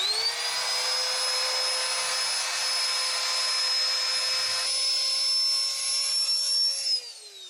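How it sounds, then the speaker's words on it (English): A small electric pump deflating the large tubes of an inflatable boat tender, a loud steady close whine with sharp tonal overtones that shifts pitch partway and winds down at the end. "I thought I'd stand next to one so you could get a sense of the size of these things and show you how they deflate. We just have a little pump."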